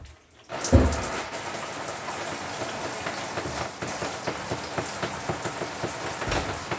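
The shower in a 2013 Elddis Avante 574 caravan runs to clear air from the water system, a steady close hiss of spraying water that starts abruptly after a brief thump.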